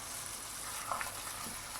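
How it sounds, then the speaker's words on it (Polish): Meat frying until no longer red sizzles and crackles steadily in a hot pan, a constant close hiss with a brief stir partway through. "Tak długo to mięso smażymy, dopóki nie będzie całe takie białe, białe, szare."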